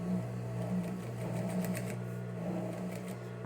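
A sewing machine runs steadily and close by, stitching a narrow topstitch seam along the edge of the binding on a fabric hygiene kit piece. The motor holds an even, continuous hum with no talking.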